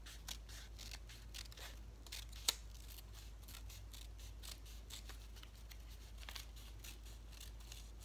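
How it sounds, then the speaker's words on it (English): Scissors snip steadily down the middle of paper for a homemade paper lightsaber, giving a quiet run of crisp cuts with soft rustling and one sharper snap, all against a low steady hum. "You're going to want to take the side of these and cut down the middle."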